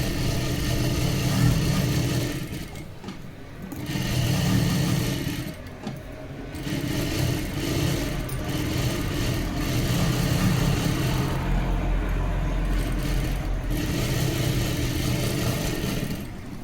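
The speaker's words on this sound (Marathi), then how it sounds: "हे पूर्ण चारी बाजूंनी शिलाई करून घ्यायची अशी" Sewing machine stitching a blouse's lining to the main fabric all around the edges for a princess-cut blouse, a steady close mechanical whir running throughout with brief pauses.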